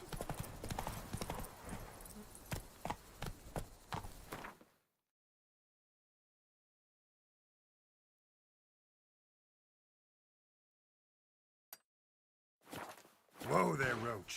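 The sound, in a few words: horse Roach walking and clip-clopping in The Witcher 3 video game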